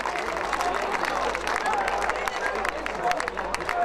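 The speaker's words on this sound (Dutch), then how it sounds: "Want een applaus voor Bart Helmond" Outdoor crowd applauding a record-setting fierljeppen pole vault jump at the Dutch national championship: steady, dense clapping from many hands with crowd murmur mixed in throughout.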